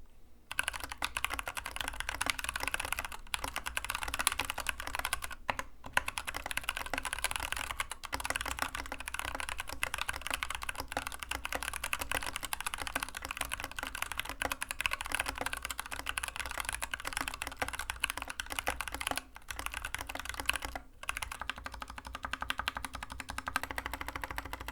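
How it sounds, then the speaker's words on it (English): Steady continuous typing on an Epomaker GK61XS barebones mechanical keyboard, a dense stream of close clacky keystrokes with only brief pauses and no talk. "I thought that the keyboard sounded a bit hollow during my initial"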